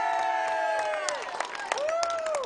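A lively crowd at a high school senior night basketball game cheers and whoops in a brief, loud burst, with shouts and whistles rising and falling over steady crowd noise.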